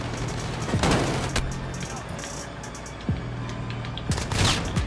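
Shotgun blasts in an online shooter video game, a few sharp booming shots spaced seconds apart over a background of game noise, with a player talking.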